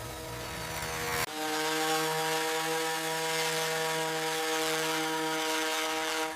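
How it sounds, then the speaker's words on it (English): A power sander works over a wooden cricket bat in a bat factory, a continuous loud droning buzz with a steady hum that shifts slightly after a short catch near the start, close up with no talking. "Sanding smooths every imperfection."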